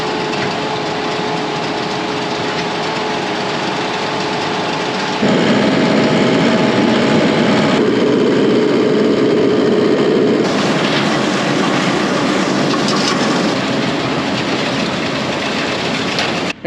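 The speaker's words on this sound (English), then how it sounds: "Do you like the round baler?" A round baler works hay in an open farm field, giving a steady, loud mechanical drone and rumble that thickens and grows heavier partway through and keeps running without pause.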